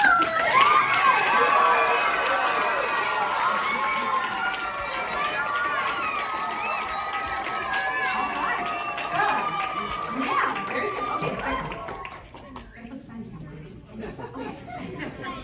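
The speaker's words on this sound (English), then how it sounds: "Okay, let's give them a round of applause." Children cheer, shout and applaud as a crowd at a church vacation Bible school play night, loud and sustained chatter-filled roar that fades toward the end.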